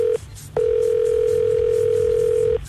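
A telephone ringing tone on a call placed to Québec, a steady single-pitch tone that breaks briefly near the start, then holds loud and continuous for about two seconds before stopping.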